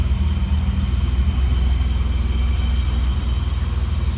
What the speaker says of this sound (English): You can see how smooth this engine runs.